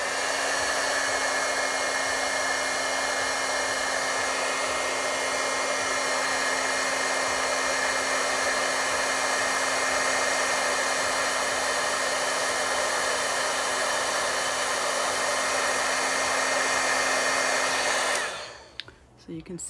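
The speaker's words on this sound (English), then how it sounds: "So I need to use a heat gun in order to melt it." A steady, loud whooshing heat gun roars continuously for most of the clip while melting embossing powder, with a constant motor hum, then cuts off abruptly near the end.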